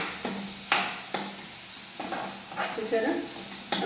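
Gongura leaves and raw prawns frying in hot oil, a steady sizzle broken by repeated clattering strokes of a spatula against the pan, close and fairly loud.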